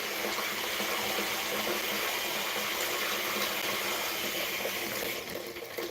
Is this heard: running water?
yes